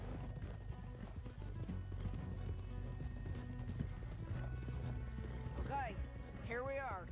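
Horses' hooves in Red Dead Redemption 2, a continuous rhythmic clip-clop of riding under game music, with a couple of whinnies near the end.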